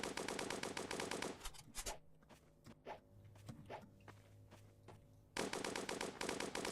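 Rapid bursts of video-game machine-gun fire open and close the stretch, loud and dense, with scattered single shots, thuds and footsteps in the quieter middle.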